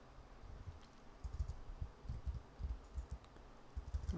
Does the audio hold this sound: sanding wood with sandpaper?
no